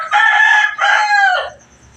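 A rooster crows loudly and close by, one full two-part crow that trails off into quiet background.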